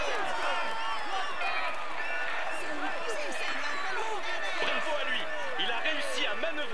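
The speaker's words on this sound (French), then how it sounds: "Mesdames et messieurs, applaudissez-le bien fort" A crowd at a Tour de France stage finish in Aigle–Châtel, Les Portes du Soleil, applauds and cheers the stage winner, a dense, continuous roar of clapping, whistles and many voices throughout.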